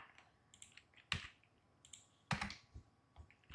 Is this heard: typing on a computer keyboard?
yes